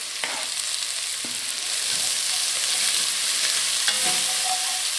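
Chopped large carrot, seeded chili and vegetables sautéing for a short rib ragu, a bright continuous sizzle with occasional stirring clinks, close and steady with no talk.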